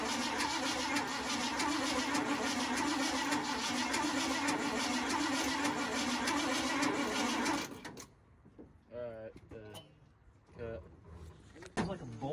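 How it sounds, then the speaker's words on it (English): Starter cranking on a 1977 Ford truck engine, a loud continuous whirring grind for about eight seconds that stops abruptly, followed by people talking nearby. "Yeah, that's the starter."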